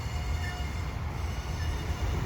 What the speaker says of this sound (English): It looks like the train's gonna stop anyway.